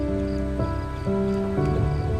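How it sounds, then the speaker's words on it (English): Rain falls in the Under the Ocean video game, a constant loud hiss beneath droning tonal game music that changes pitch every half second or so. "Let's get out of the water where it's raining"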